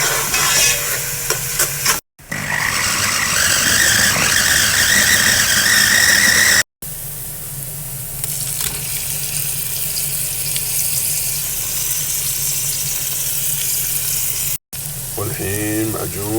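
Chopped onion and garlic sizzle and fry in a pot, with scraping stirs and a few brief gaps, a steady close crackle throughout and faint clinks near the end.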